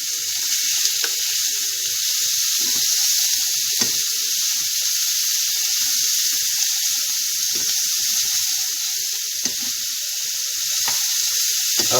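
Bacon lardons sizzle steadily in a hot pan while being stirred, a constant frying hiss broken by occasional soft clicks and scrapes.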